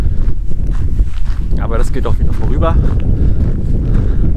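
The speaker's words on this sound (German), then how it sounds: "Der Wind bläst uns immer noch um die Ohren." Heavy wind roars across the microphone during a hike along the Baltic Sea coast, a loud constant rumble with gusts as a person speaks in German and footsteps crunch underneath.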